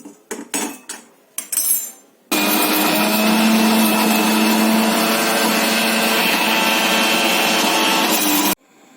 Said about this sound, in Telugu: ఇప్పుడు మిక్సీ చేసుకోవాలి